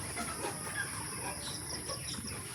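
About a thousand broiler chickens on a farm cluck and chirp in a steady, busy chorus, with a constant hum and bird calls rising and falling throughout.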